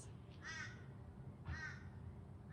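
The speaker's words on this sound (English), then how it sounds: "I can hear a crow cawing." A crow caws three times at an even pace, harsh and somewhat distant, over a low outdoor rumble.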